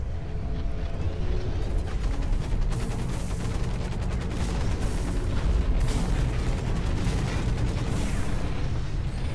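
Assault rifle fire in the mech shooter Hawken, dense rapid shots in sustained bursts with booming impacts, loud and continuous, no talking.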